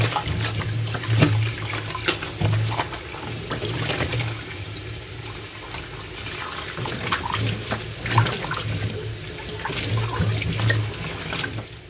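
Tap water runs steadily over a pumpkin being washed in a kitchen sink, a continuous splashing rush with small gurgles that lasts throughout.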